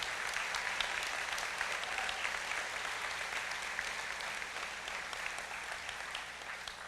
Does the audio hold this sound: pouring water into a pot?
no